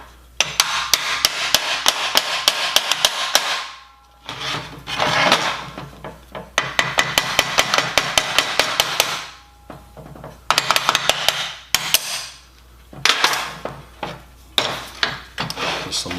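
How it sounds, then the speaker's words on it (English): Rapid metallic hammer taps fitting a small metal support into a welding fixture, coming in close, dense bursts separated by brief pauses. "Some light taps to get that to fall into place."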